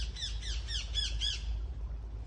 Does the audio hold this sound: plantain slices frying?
no